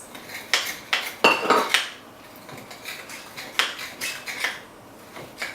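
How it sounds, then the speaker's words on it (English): Egg, orange juice and brandy being mixed into rout cake batter in a bowl, giving a series of loud utensil clinks and scrapes in irregular bursts, close by, with no talking. "So mix in the liquid"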